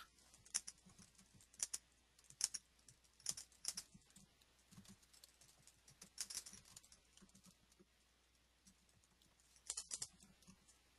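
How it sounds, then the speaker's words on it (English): Rapid clicking of computer keyboard keys in quick bursts, close by and fairly quiet, with short pauses between runs of typing. "bear with me as I type this out again"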